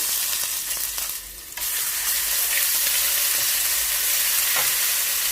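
Steady crackling sizzle of ginger garlic paste sautéing in hot oil, close and continuous, with a brief stirring scrape partway through.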